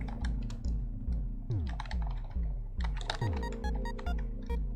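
Brisk, continuous clatter of keys on a computer keyboard being tested while a video game plays, with even, close clicking over a steady musical drone.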